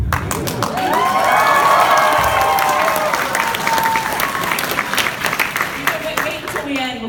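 A crowd claps and cheers at a comic fest panel, the applause swelling to a loud peak and then slowly thinning out, with a few shouts mixed in and a voice speaking over it.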